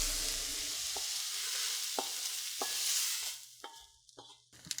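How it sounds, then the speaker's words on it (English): Wild mushrooms cooking in butter in a pan, a bright hissing sizzle broken by regular spatula knocks and scrapes about once a second, the frying fading toward the end as the taps grow sparser. "I'll keep going and cooking each mushroom varietal"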